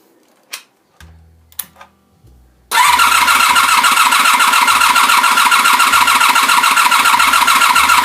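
1984 Honda VF750F motorcycle engine cranked on the starter during a compression test: a few clicks and clunks, then a loud, close, steady rhythmic churning whir that runs without firing to the end.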